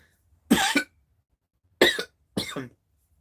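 Three close, loud coughs from a man, a double cough followed by a pause and then two more sharp bursts, with near silence in between.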